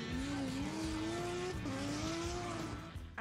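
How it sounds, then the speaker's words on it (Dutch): Drag racing cars or motorcycles roar down the strip at a drag race event in Drachten, a loud high-revving engine rising in pitch through gear changes, with a brief dip midway before winding up again. "Met een auto of motor zo hard mogelijk over deze baan scheuren."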